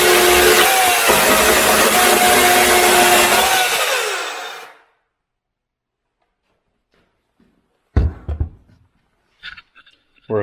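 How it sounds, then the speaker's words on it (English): A Harbor Freight Atlas 40V battery chainsaw cuts through a scrap 2x4, a loud whining buzz that winds down and stops after several seconds, followed by silence and a few brief handling knocks close by. "found just a piece of scrap 2x4 and thought we could cut that"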